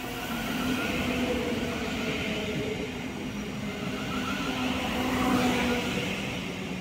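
A steady electric whine and rumble of a Class 700 electric train rolling slowly into a station, with a faint rising hum near the end and no voices.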